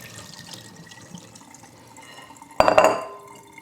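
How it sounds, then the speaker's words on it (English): Soaking water from dried beans is poured off in a sudden splashing gush into a sink after quiet kitchen rustling, close and brief. "what we want to do to help with the gas and bloating issue is to get rid of the soaking water"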